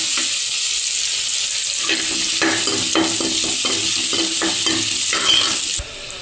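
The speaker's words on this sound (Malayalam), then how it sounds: "വെളുത്തുള്ളി ഒന്ന് മൂക്കട്ടെ." Garlic sputters and crackles in hot oil in a pan while making a Kerala poha mixture, a close, loud, busy sizzle with stirring clinks and scrapes throughout.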